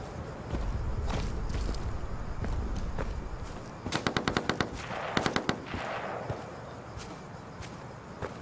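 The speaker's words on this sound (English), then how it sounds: "Weapons fire right side." Gunfire in the video game Insurgency during a co-op match: a steady mechanical rumble, then two quick bursts of sharp automatic shots, some single cracks scattered around them.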